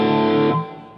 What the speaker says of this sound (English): My favorite reverb is the vintage plate.